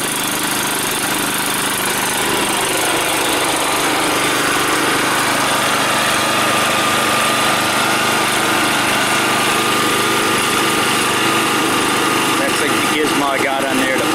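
A Predator 69731 small engine fitted to an Ariens ST622 string trimmer runs loud and close on a cold day, holding a steady, buzzing high-pitched drone without a break from start to finish.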